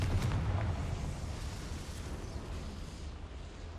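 A Confringo fire spell blast in the video game Hogwarts Legacy, a loud rumbling burst that decays into a sustained roaring wash of noise, with no speech.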